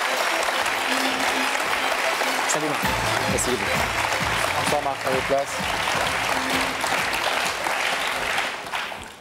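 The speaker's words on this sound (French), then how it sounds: "Sous applaudissements, parce qu'il faut l'encourager." Warm applause from a studio audience welcoming a guest onto a talk show set, steady clapping throughout with people greeting and speaking over it.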